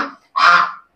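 Geese at a village market in China call out close and loud: the tail of one honk fades away, then a single harsh, nasal honk follows.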